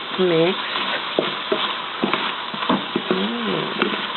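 Green chile pork chops being stirred in a pan, a soft sizzling frying bed with occasional utensil clacks and scrapes, with voice-like tonal sounds overlaid.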